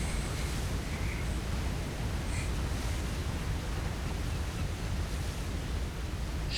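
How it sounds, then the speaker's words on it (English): A Short Sunderland flying boat in War Thunder settles onto the water, a continuous broad rushing splash and spray hiss that holds at an even, fairly loud level without any voices. "splishing and splashing down on the water."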